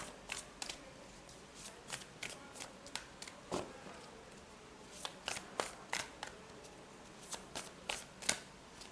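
Oracle cards being shuffled by hand, a run of crisp riffling snaps and soft flutters in irregular bursts, close and fairly quiet with no talking.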